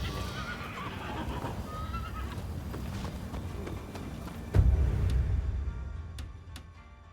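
A horse whinnies over steady hoofbeats and a low rumbling background in Rise of the Rōnin on PS5, with a sudden louder thud midway and sparse clicks near the end.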